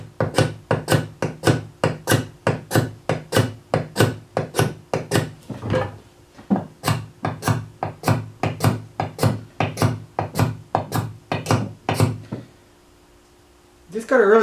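An axe head being driven onto a wooden handle with steady, repeated hammer blows, loud and close, striking in a regular rhythm with a brief pause midway, then stopping near the end.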